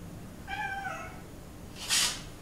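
A single cat meow with a clear rising-falling tone, followed by a brief broadband rustle or hiss, over low background noise.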